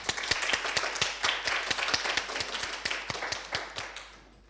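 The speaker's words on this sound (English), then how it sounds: "let's welcome the speakers with an applause" An audience at an art talk applauds to welcome the speakers, with dense clapping and distinct sharp individual claps, steady and fairly loud before fading out at the end.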